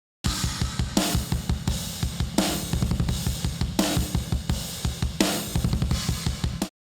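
A full drum kit recorded through a single "Wurst" microphone, processed with gating, transient shaping, parallel compression and saturation, plays a steady, punchy groove of kick, snare and crashing cymbals. It is loud and up close, with no talking.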